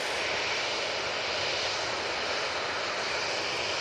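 A Ryanair jet bound for Bratislava gives off a constant, fairly close engine roar at Manchester, broad and unbroken for the whole stretch, with no voices.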